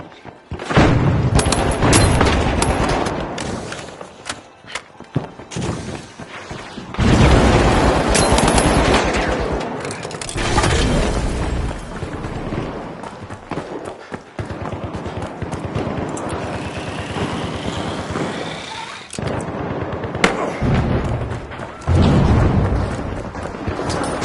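Dense gunfire and repeated booming frag grenade explosions from The Finals video game, loud and continuous with heavy bursts and rattling automatic fire throughout.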